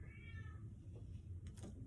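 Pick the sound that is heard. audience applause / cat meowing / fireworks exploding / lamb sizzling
cat meowing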